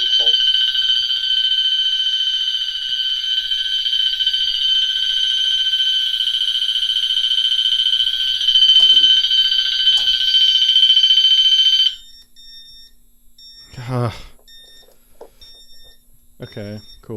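A fire alarm system set off by a Siemens pull station sounds with a loud, continuous high electronic tone that stops abruptly partway, followed by a voice speaking and faint beeps.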